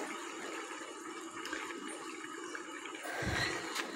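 Water pours into a pan of small puti fish in a steady, rushing gush that swells near the end, with no voices.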